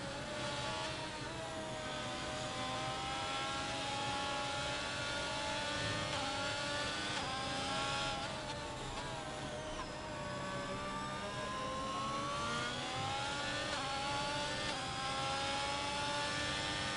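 F1 race cars in a sim racing game at the French circuit, their high-pitched engines whining steadily and shifting pitch as they accelerate and lift, several cars layered together at moderate volume with no talking.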